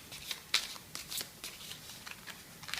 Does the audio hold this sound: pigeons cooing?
no